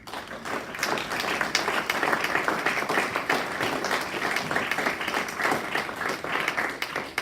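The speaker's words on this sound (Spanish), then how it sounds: "Denle un aplauso al Rey, Señor" A church congregation breaks into applause for the King during a sermon, a continuous, even wash of many hands clapping at moderate loudness from start to finish.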